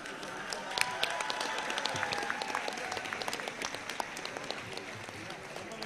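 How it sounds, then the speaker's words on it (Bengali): An audience claps loudly and steadily at the close of a political gathering in Bangladesh, a dense, continuous patter of many hands lasting throughout with voices mixed in. "জোরে একটু তালি, জোরে তালি।"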